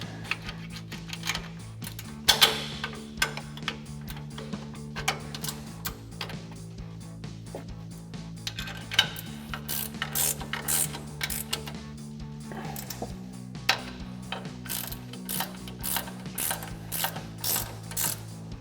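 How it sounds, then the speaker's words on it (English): A 16mm ratcheting wrench tightens three strut tower bolts during a front leveling kit install, giving a long run of quick, close clicking ratchet strokes in uneven bursts with brief pauses between pulls. "I have a 16mm ratcheting wrench."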